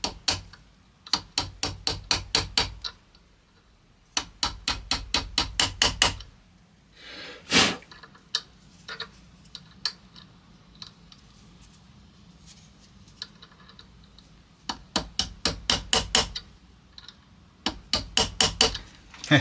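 A small metal punch is hammered against a mill pinion gear, close sharp taps in rapid bursts of about eight to ten blows, separated by pauses with faint handling knocks.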